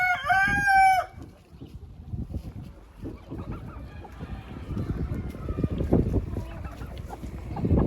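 A rooster crows loudly and close at the start, then hens cluck steadily on a small backyard farm during a cold snap with night frosts.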